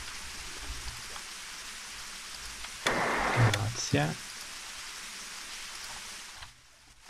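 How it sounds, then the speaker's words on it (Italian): Steady rain hisses throughout, heard in the Silent Hill 4: The Room video game. A brief spoken word and a burst of louder noise break in midway before the rain quiets near the end. "Ma cos'è questo frastuono infernale che si sente? Penso sia la pioggia"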